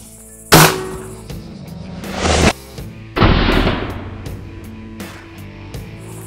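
Two sharp, loud reports from a .50 caliber double-barrel airgun firing pellets, each a booming crack with a short rumbling tail, separated by a few seconds of quieter handling noise.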